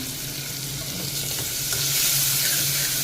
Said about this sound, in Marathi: कांदा थोडासा गुलाबी रंगाचा होईपर्यंत परतून घेऊयात